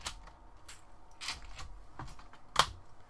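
A SteelSeries keyset is plugged into a Shift gaming keyboard, a quiet handful of plastic clicks and taps spread unevenly, with one sharper snap near the end as it seats.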